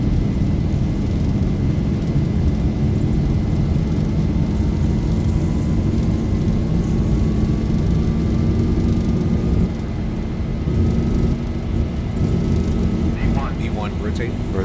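Boeing 737 engines on a takeoff roll in the X-Plane 11 flight simulator, a steady loud roar with a rising whine held throughout, while a voice talks over it.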